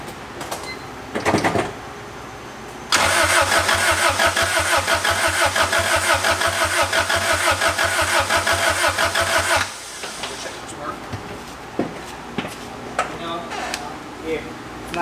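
A turbocharged Honda H22 engine in a Civic fires up for the first time: quiet shop sounds and clunks, then a sudden loud rough running roar for about seven seconds before it cuts out, followed by scattered clatter and faint voices.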